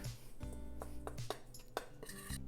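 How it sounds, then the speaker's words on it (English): Spoon or whisk clinking and scraping against a bowl while rice flour and sugar are stirred together, a handful of light irregular taps spread across a couple of seconds over faint background hum. "we'll just give those a little stir"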